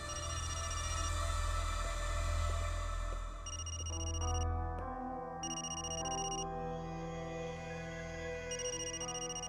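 A mobile phone, belonging to a missing mother and picked up from her home, rings with a steady electronic melody of sustained tones over a low hum, changing pattern midway and continuing throughout.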